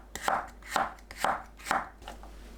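A knife slices a seeded cucumber diagonally into 0.4 cm pieces on a board, five crisp, evenly spaced chops landing one after another, close and clear with nothing else heard.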